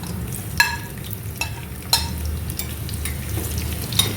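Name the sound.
small red shallots frying in hot oil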